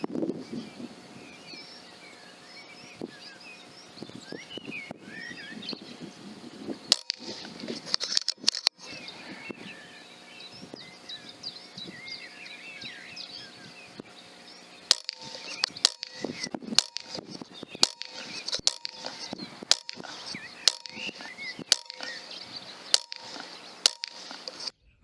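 A BRK Ghost air rifle fires H&N Terminator pellets at a 20-yard target outdoors, giving a long run of sharp, dry cracks at irregular intervals, with birds chirping faintly in the background.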